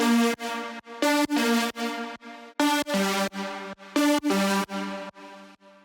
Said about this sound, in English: they added another lead in the drop to make it even more interesting